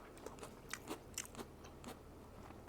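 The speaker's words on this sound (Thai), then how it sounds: "ขอเคี้ยวก่อนนะ" Crunchy bamboo shoots with Japanese seaweed chewed close to the mic, giving a series of soft, irregular crisp bites and crunches over a quiet background.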